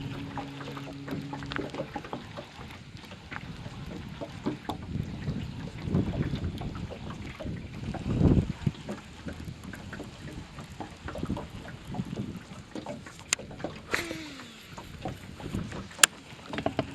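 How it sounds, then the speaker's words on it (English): Strong autumn wind blows across open water during bass fishing from a small boat, a steady rough rumble with gusts buffeting the microphone, plus faint creaks and knocks from the boat, and no voices. "This wind is pretty killer today."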